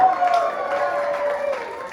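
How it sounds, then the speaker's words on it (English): A sideshow audience at a hootenanny cheers and applauds steadily, with a dense, continuous wash of clapping and whoops that holds at an even level throughout. "Cheer for him and then let him sit back down."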